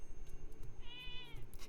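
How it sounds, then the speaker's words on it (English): A cat meows once in the Zelda: Echoes of Wisdom video game, a short rising-falling tone, soft and somewhat distant over a steady game music and ambient background. "I can just talk to the cats."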